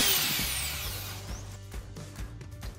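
A handheld power drill for woodworking spins up with a high whine that sweeps and fades, followed by a series of short clicks and knocks as its trigger and settings are handled up close.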